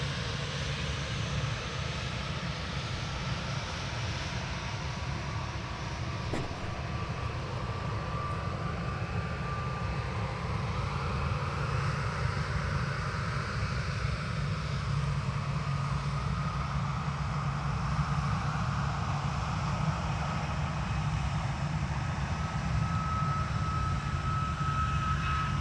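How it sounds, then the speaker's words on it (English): An Icelandair Boeing 737 MAX 8 begins its take-off roll on the runway at Manchester Airport, heard as a steady, broad engine roar that holds loud and unbroken throughout, with a faint whine drifting above it. "the Iceland Air Boeing 737 MAX 8 on its way back to Reykjavik. Just starting its take-off roll."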